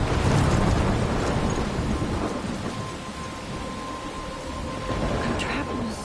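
Thunderstorm with steady heavy rain and a low rumble of thunder building at the start, with a faint background tone, continuous and fairly loud throughout.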